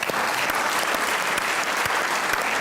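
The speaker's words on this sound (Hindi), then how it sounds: "आपकी भरपूर तालियों में बुलाएंगे सलमान गिलानी" A studio audience on a comedy talk show gives dense, steady applause to welcome guest Salman Gilani. The clapping is loud and sustained throughout, with no talking over it.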